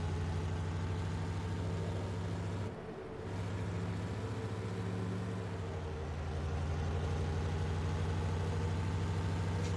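An old truck's engine in a video game idles continuously, a steady low rumble, smooth, with a brief dip partway through before settling back into an even drone.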